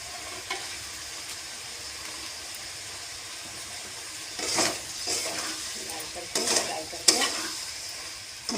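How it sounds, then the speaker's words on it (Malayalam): Turmeric and coriander powder fry in oil as a base for a North Indian cauliflower curry, giving a soft steady sizzle, broken later by several louder scrapes and clinks of a spoon stirring in the pan. "മൊത്തം നന്നായിട്ട് മൊരിയണ വരെ ഇങ്ങനെ താളിക്കും."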